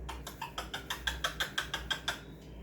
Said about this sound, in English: This sound is called low-pitched clucks.